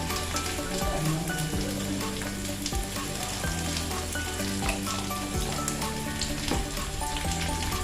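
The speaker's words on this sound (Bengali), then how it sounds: "মশলাটা কষিয়ে নেব।" Ground coriander, cumin and Kashmiri chili powder fry in a hot pan with a steady, close sizzle. Occasional scraping knocks come from stirring, with no voices.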